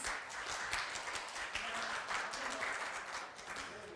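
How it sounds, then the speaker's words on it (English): Guests clap for a while at the signing ceremony of the Korea–Indonesia Comprehensive Economic Partnership Agreement. The applause is soft and distant, a steady patter of many hands with no voices over it. "Why don't you give another big round of applause to celebrate this moment?"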